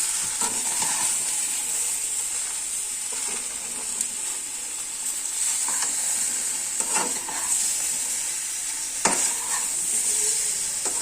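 Jujube (kul) pickle is stirred in a pan on the stove with a steady soft sizzle, broken by repeated scraping strokes of a spoon and a few sharper clacks against the pan.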